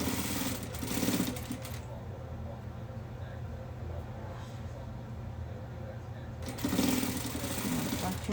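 A sewing machine stitches a ruffle onto a pencil dress, running in a steady mechanical whir with louder bursts at the start and end and a quieter stretch between.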